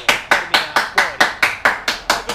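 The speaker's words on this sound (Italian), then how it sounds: "Un applauso!" Evenly spaced claps in the FIFA 15 video game, about four per second, sharp and close, forming a steady rhythmic applause without voices.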